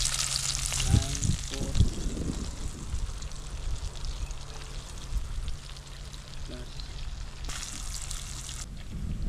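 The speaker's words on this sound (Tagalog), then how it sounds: "Eh mga kadodoy, prituhin na lang natin." Food frying in a pan gives a steady, close hiss and crackle that runs throughout, with a few brief low voices and clinks mixed in.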